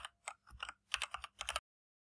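Bursts of keystrokes clatter on a computer keyboard in short irregular clusters, close and fairly crisp, then stop abruptly into silence; no voices.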